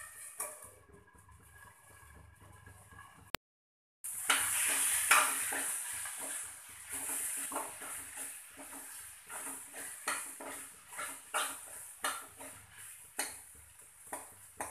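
Potato and capsicum sabzi sizzles gently in a pan on a low flame, with a soft frying hiss and repeated scraping stirs of a spoon against the pan after a brief pause.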